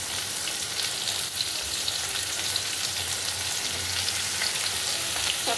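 Fried potatoes and freshly added onions sizzle in a pan, a steady close crackling hiss with occasional stirring scrapes and no talking.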